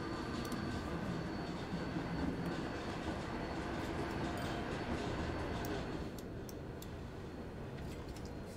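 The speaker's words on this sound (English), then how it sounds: "it makes a right racket, doesn't it, these trams?" Trams rumbling along rails in the video game Transport Fever 2, a steady loud clatter with faint wheel squeals, easing slightly toward the end, no voices.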